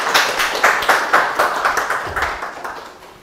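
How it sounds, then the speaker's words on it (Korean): An audience claps in welcome for a university professor at a regional renewable energy forum in Korea, a steady round of applause that starts strong and gradually fades. "박수로 맞이해 주세요."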